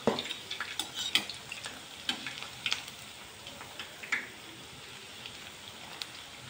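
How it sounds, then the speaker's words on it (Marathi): Onion bhaji fritters fry in oil over a medium gas flame, giving faint, soft crackling with scattered small pops and occasional stirring clicks. "भजी तळताना गॅस मोठा नाही ठेवायचा जास्त"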